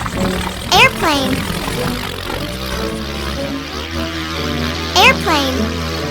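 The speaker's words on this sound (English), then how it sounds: "Airplane." A steady droning airplane propeller engine hums close by, with a voice briefly speaking over it twice.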